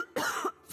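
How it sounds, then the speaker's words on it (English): A wounded woman named Myra in the fantasy game Pillars of Eternity 2 Deadfire gives a single harsh, wet cough, close and loud, with brief quiet before and after. "Myra coughs, spitting up blood."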